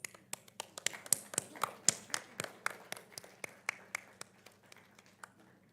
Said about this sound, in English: Please continue your applause, everyone.